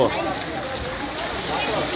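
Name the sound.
heavy rain falling in Wankaner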